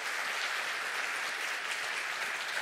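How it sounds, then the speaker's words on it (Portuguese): A church congregation claps steadily together during a sermon, a dense, continuous wash of applause at moderate level with no voices over it. "Vamos aplaudir esse Deus grande."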